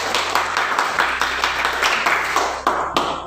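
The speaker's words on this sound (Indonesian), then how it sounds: "tepuk tangan untuk Neng Nur Anissa." A classroom full of students claps together in a short round of applause, a dense, even patter of many hands lasting a few seconds over a low background hum.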